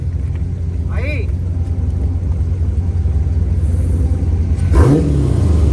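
A Mopar car's engine revving and rumbling nearby during street sliding, a steady low growl with swelling revs, while people talk over it.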